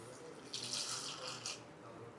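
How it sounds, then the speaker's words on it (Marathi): Fresh water poured into a pot while cooking a Maharashtrian toor dal soup, a short soft splashing stream, swelling briefly in the middle before tapering off. "आता यामध्ये आपल्याला पुन्हा फ्रेश पाणी घालायचं आहे."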